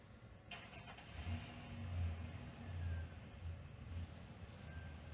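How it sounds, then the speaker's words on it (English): A car passes by outdoors at a moderate distance, its low engine rumble swelling and fading over a few seconds against quiet background noise, with no talking. "Hear that car go by?"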